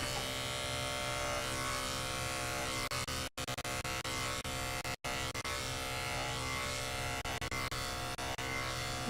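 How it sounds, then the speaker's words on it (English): An electric clipper buzzes steadily and close while grooming a Cairn Terrier's coat, running almost without a break apart from two brief cut-outs, with no talking. "As I get closer to that area where I want to stop, I'm gonna start flicking my clipper."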